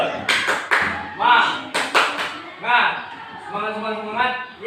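A classroom group claps out the 'tepuk semangat' rhythmic ice-breaker clap in a pattern of quick bursts and pauses, mixed with voices chanting along, close and lively.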